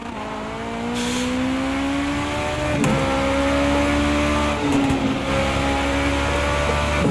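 LMP2 prototype race car accelerating in Project Cars 2 at Laguna Seca: a loud, continuous engine whine climbing in pitch with brief dips at gear shifts, heard alone without talk.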